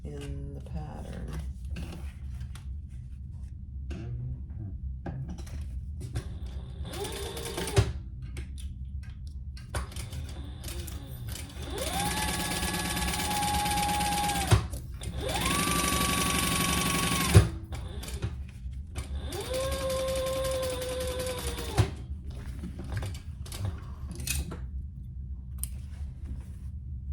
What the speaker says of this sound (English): we're gonna sew that together at the seam allowance in the pattern